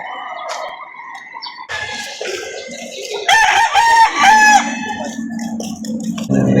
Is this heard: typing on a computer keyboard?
no